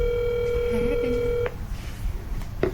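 A phone keypad sounds a long, steady dial tone followed by short electronic dialing beeps while placing a call to leave a voicemail, close and clear over faint background noise.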